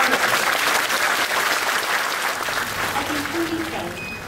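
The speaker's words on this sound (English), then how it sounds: "let's give them a warm applause." Graduates at a university graduation ceremony applaud their families, a sustained dense round of clapping from a large hall crowd that holds steady throughout, with faint background voices.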